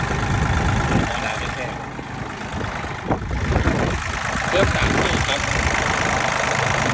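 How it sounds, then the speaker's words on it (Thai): A small three-cylinder Iseki/Kubota tractor engine idles with a steady, mildly knocking rumble while someone speaks over it. "เปิดเครื่องดูหน่อย"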